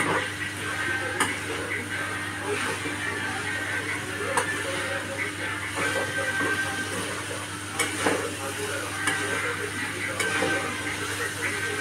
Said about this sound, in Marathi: परत छान परतवून घेते